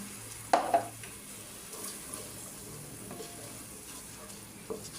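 Spice paste made with blended chilli sautéing in a pan after a splash of water, a low continuous sizzle with a couple of clinks of a spoon against the pan early on.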